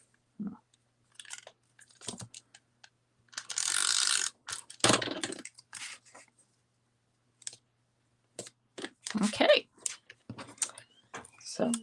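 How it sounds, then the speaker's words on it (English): Tape runner applying adhesive during card making on a craft table: several short ratcheting clicks and rolling bursts, one longer rasp in the middle, with quiet pauses between. "this is just wide enough that I can use my tape runner"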